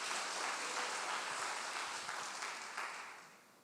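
Congregation at a church service clapping together, a dense, steady wash of applause that holds evenly, then gradually fades toward the end.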